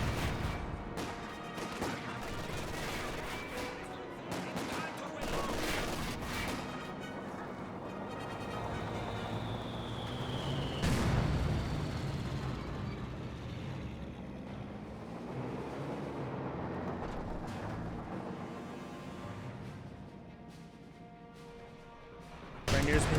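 MG42 machine gun firing in Company of Heroes 2 amid ongoing battle noise with heavier booms, a long continuous stretch of game combat sound beneath steady commentary.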